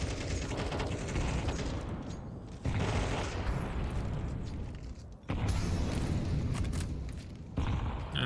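Grenade blasts and a burning molotov in Counter-Strike 2 on the Anubis map, a loud continuous barrage of booming explosions and crackling gunfire-like bursts with sharp cutoffs, no voices.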